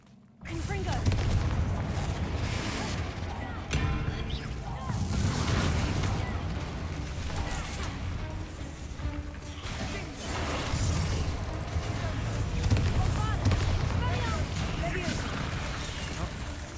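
Confringo curse explosions from Hogwarts Legacy, loud booming blasts and crashes repeating through combat with clattering debris, while a voice talks over parts of it.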